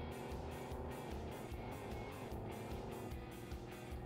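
Toy car in Super Toy Cars, its small engine buzzing steadily in a continuous faint drone as it drives alone, with no voices.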